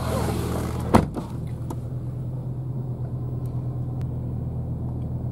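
A 2017 Porsche 911 Turbo idles after a keyless start, with a low, steady engine hum. A sharp thud from a door closing comes first, then only the quiet, even rumble remains.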